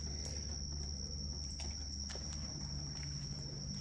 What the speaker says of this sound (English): I can hear some kind of bugs or something